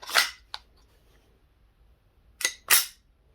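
A GHK Glock 17 Gen 3 airsoft pistol runs on green gas and fires 0.2 gram BBs, giving four sharp, snappy reports. Two spaced shots open, then a close pair follows after a quiet pause.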